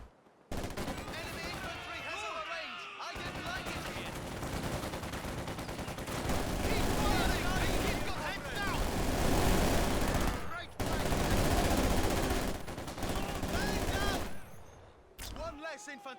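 Dense, continuous gunfire from a Company of Heroes 2 battle between URA and Airborne Guards infantry and Panzer Grenadiers, with loud sustained volleys and overlapping shots running almost the whole time, broken by a few brief lulls.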